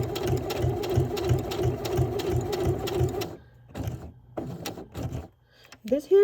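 A sewing machine stitches a faux leather bookmark in a steady rapid rhythm for about three seconds, then runs in a few short bursts with pauses, close and clear.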